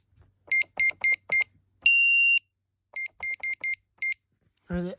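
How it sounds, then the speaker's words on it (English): A Sky Link SC-001 security keypad emits a series of short, sharp electronic beeps in quick rhythmic groups, with one longer sustained tone in the middle, close and clear, ending with a brief burst of a voice. "Wait for the beep. You heard the beep."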